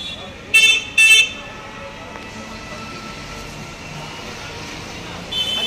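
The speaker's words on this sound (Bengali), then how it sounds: "আজকে প্রচণ্ড জ্যাম দেখছি রাস্তায়" Car horns blare twice in close succession in a heavy road traffic jam, followed by a steady traffic hum and another honk near the end.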